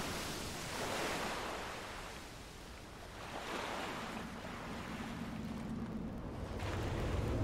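Stormy sea waves roll and crash in a fishing video game, with broad swells of surf rising and falling in slow surges under wind, fairly quiet overall, and a low hum building toward the end; no voices.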